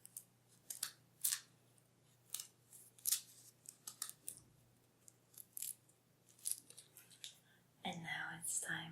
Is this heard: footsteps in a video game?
no